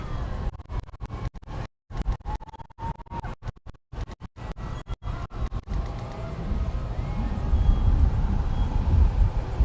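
SpaceX Falcon Heavy rocket at liftoff, heard as a crackling, sputtering roar with brief dropouts that swells into a steadier deep rumble, heavy and distorted.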